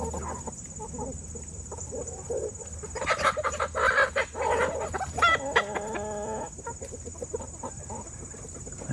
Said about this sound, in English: That was actually a chicken fight, not roosters, but a couple of hens going at it.